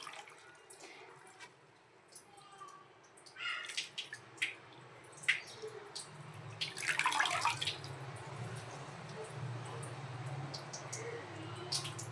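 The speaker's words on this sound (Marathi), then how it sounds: "आपण भाजी स्वच्छ धुवून घेत आहे इथे आता" Chopped chigal (small ghol) leafy greens being rinsed clean in water, with soft splashing, dripping and sloshing that grows busier midway, close and moderately quiet.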